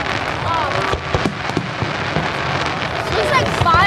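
Fourth of July fireworks display in Pittsburgh, scattered bursts and crackles heard from a distance, with people talking and exclaiming throughout.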